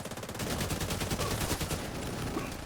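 Rapid sustained automatic fire from an AK rifle in a video game, a dense continuous burst of loud, close shots running the whole time with no talk.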